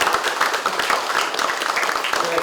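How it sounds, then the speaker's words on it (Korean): Meeting participants clap together in celebration at the opening of a Democratic Party supreme council meeting, a steady, dense round of applause filling the room throughout, with faint voices mixed in. "모두 함께 큰 축하의 박수로 회의를 시작하겠습니다."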